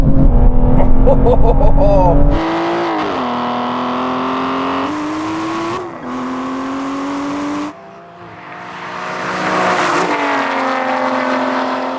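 Aston Martin V12 cars in a drag race roar loudly and continuously, engine pitch climbing through gear shifts and dropping briefly at each change before rising again.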